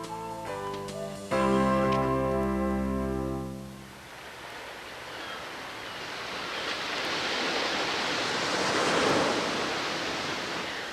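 Ocean waves and surf as a broad, rushing wash that swells and recedes, entering after a few seconds of sustained musical tones and continuing alone to the end.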